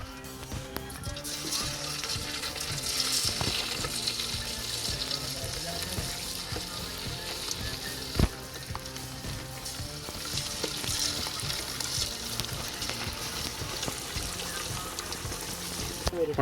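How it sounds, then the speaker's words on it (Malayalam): Marinated chicken pieces deep frying in hot oil, a steady crackling sizzle with bubbling pops and occasional clinks of a utensil, continuous and fairly close. "എണ്ണ നല്ല ചൂടായിട്ട് വന്നിട്ടുണ്ട്. അപ്പം നേരത്തെ ചിക്കൻ മാരിനേറ്റ് ചെയ്ത് വെച്ച ചിക്കൻ ഇതിലേക്കിടാണ്."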